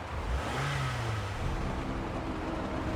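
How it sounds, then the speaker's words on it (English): Car engine revving loudly in the Heavy Rain video game, a single rising rev near the start that settles into a steady idle drone, close and continuous with no voices. "Gonna sit outside of your mansion and make my car really loud."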